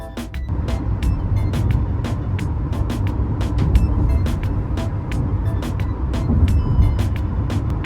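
A Kia Sonet SUV on new tyres cruises along a highway with a steady, loud road and engine rumble, punctuated by a regular series of faint clicks throughout.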